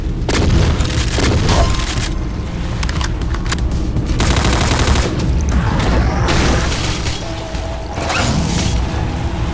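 Rapid bursts of chaingunner gunfire and mechanical clatter in DOOM 2 with the Project Brutality mod, loud and continuous, layered with booming impacts and game effects throughout.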